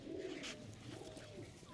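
Pigeons of the mada breed cooing softly in a loft, a faint low coo near the start with quiet background sounds, no talking.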